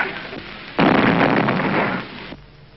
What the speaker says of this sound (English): The explosion was from a bomb thrown by a Hindu refugee to kill Gandhi.